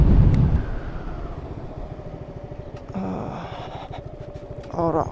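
A motorcycle running low on fuel idles and rumbles close by, its engine note sputtering and shifting, with a brief louder burst near the end.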